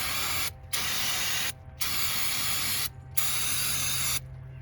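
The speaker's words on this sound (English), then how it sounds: "let's spray it down." Brake cleaner aerosol sprays in three long hissing bursts with short pauses between, close and steady, on a 2014 VW Passat power steering hose, followed by the start of a fourth.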